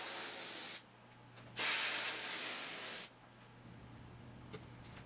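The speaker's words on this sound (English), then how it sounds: "I just sprayed trim glue and glued it in place" Trim glue sprays from an aerosol can onto a 1966 Triumph Spitfire MK2 interior panel in two close, loud hissing bursts, the second longer, separated by a quiet pause.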